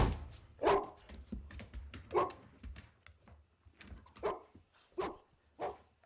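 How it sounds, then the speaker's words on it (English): A dog barks in short, repeated bursts at irregular intervals, fairly close and loud, with quiet background sounds between the barks. "Oh, do stop that at once, you stupid dog."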